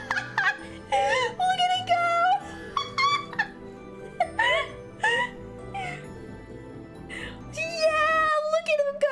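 A cat meows repeatedly in a series of rising and falling wails of varying length, fairly close and clear, with some voices mixed in around the calls.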